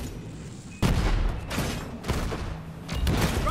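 Borderlands 3 gunfire erupts in heavy bursts, a sudden loud volley followed by further blasts over a constant rumbling battle din.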